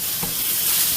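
Shrimp hitting a hot skillet give a short burst of dense, steady sizzling hiss, close and fairly loud, with one soft knock near the start and no voices.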